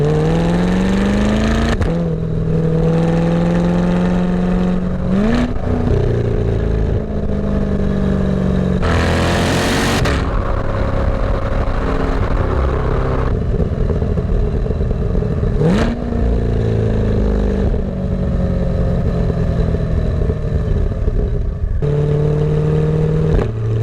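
A Corvette C8 exhaust, recorded close by a microphone mounted just above it while driving, rises and falls in pitch through repeated revs, shifts and accelerations, loud and continuous throughout, with no talking.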